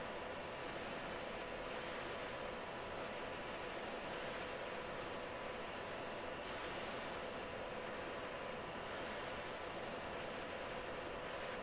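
An F-16 jet engine roars steadily during the takeoff roll in the Falcon BMS flight simulator, a dense, unbroken rumble with a thin high whine that rises slightly in pitch partway through.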